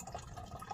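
Water drips faintly into a partly filled drum, soft liquid plinks and trickling in a quiet outdoor setting, low in level with no talking.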